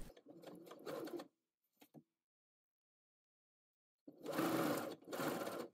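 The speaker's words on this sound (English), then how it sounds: "I thought it'd be a good idea to use a basting stitch to sew it together." A sewing machine runs a basting stitch on a garment in short bursts: a brief whirring run, a couple of tiny taps, a pause, then two louder runs close to the listener.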